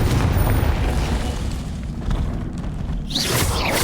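A Confringo blasting-curse explosion in Hogwarts Legacy boss fight, a loud close boom with rumbling low blast that lingers, then a sharp whooshing burst at the end.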